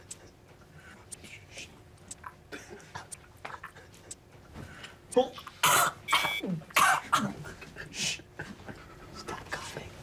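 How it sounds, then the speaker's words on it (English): Several harsh, loud coughs in a quick cluster midway, preceded by quiet breathy sounds and faint murmuring, close to the listener. "Stop coughing."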